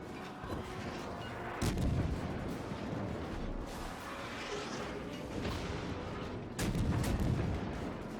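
Naval gunfire from the Mogami cruiser's 155mm guns in World of Warships, two heavy booming salvos about five seconds apart over a continuous rumbling background of battle noise, with no talking.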